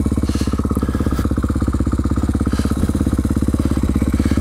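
A dirt bike engine chugs steadily and up close while the bike rides off-road over slippery, mossy ground, its rapid exhaust pulses rolling on continuously throughout.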